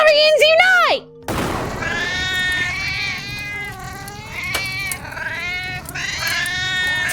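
Many cats meowing in the video game Epic Chef: after a brief gap, a dense chorus of overlapping, wavering meows and yowls carries on loudly and continuously.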